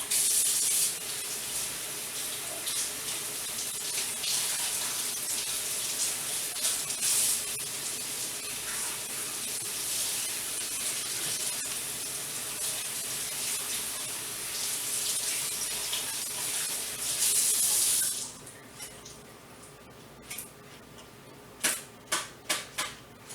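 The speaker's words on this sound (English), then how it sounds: "And I'm going to rinse these off first." Onions are rinsed under a running kitchen tap, with a loud, steady hiss of water for about eighteen seconds before it cuts off, followed by a few sharp clicks and taps near the sink.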